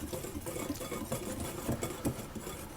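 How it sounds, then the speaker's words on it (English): Dry baking powder, baking soda, salt and ground cinnamon stirred together in a bowl for a chocolate zucchini loaf, giving a steady close scraping and clinking that runs without pause and with no talk. "I'm going to stir those around."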